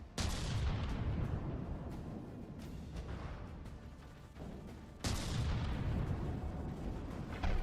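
Heavy naval gun in the game From the Depths booming twice, at the start and again around five seconds, each blast followed by a long rumbling decay over sustained low battle noise.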